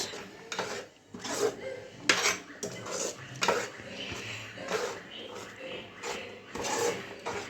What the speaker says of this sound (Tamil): நல்லா கிண்டுங்க காய்ஸ்.